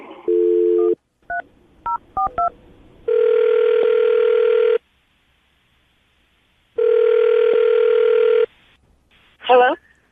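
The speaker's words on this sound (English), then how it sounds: "I'm going to dial the phone number, see if we can get her on the phone" A telephone is dialed, with a few steady tones and a quick run of short keypad beeps, followed by two long, loud ringback tones separated by silence, then a brief sound as the call connects.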